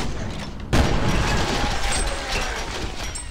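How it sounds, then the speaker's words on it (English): A proximity grenade detonates in the shooter game F.E.A.R., a sudden loud blast followed by a rolling, sustained rumble and debris noise for several seconds. "Thank you, proximity grenade."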